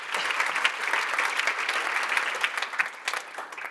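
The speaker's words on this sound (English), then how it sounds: "Please give a round of applause to Monique." An audience applauds a panel speaker at a business talk, a lively burst of close clapping that stays dense before thinning slightly at the end.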